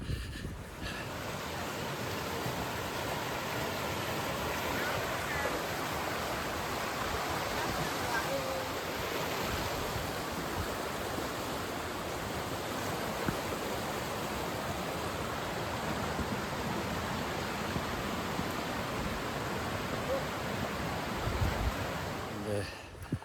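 A river flows steadily beside a forest trail on the Tom Crean Endurance Walk, a continuous broadband rush that stays even and fairly close throughout, with no talk over it.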